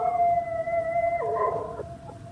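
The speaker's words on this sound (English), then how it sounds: "Somewhere, a dog howled." A dog howls in a long, sustained, mournful wail that wavers and breaks near the end, a radio-drama sound effect set in a still night, fairly close and heard alone.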